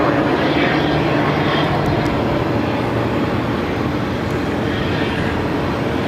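An American Airlines A321 arriving from Dallas on runway 8 at Phoenix airport roars steadily with a broad, loud engine rumble that holds throughout, with no one talking.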